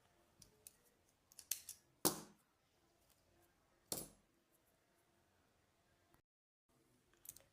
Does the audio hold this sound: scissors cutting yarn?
yes